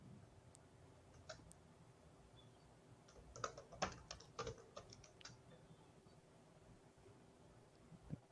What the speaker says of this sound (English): I was typing the reply